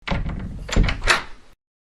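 A door in a house thumps and rattles as it swings open, two or three close, fairly loud knocks and creaks within about a second and a half, then silence.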